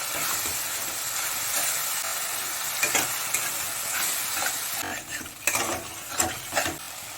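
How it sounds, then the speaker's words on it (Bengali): Fried prawns stirred and sautéed in a spice masala in a pan, a continuous sizzle broken by scraping, clattering spoon strokes that grow more frequent toward the end. "এবার ভেজে রাখা চিংড়ি মাছগুলো দিয়ে দেবো, দিয়ে একটুখানি মশলাটা কষিয়ে নেব।"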